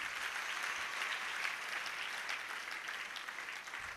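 Audience at a Jain religious discourse by Muni Shri Praman Sagar clapping steadily and fairly faintly for about four seconds, a dense even patter with no speech over it.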